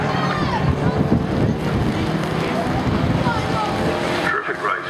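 Classic Stockhatch race cars lap Brands Hatch, their engines droning and passing under continuous commentary, with a brief whoosh near the end.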